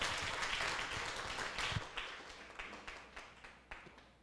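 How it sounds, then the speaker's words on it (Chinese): Applause at the close of a beginner-level law class: a scattered round of hand clapping with sharp individual claps, moderate in level and gradually thinning out over a few seconds. "掌声一下"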